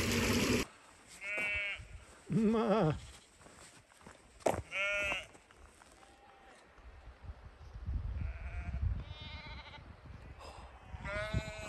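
Freshly sheared sheep bleat repeatedly in a field, with several clear, wavering calls at varying distances, some close and loud, others fainter, over a quiet outdoor background.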